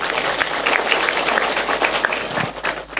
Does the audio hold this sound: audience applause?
yes